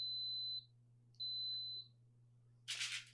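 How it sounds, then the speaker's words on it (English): Two long, steady electronic beeps from an Instant Pot pressure cooker, each about half a second, separated by a short pause, followed by a brief burst of noise. "You'll hear it beep a few times, letting me know that it is going to start cooking."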